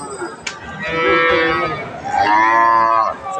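A cow lets out two loud, drawn-out moos close by at a cattle market, with a brief click before the first and quiet murmuring in the background.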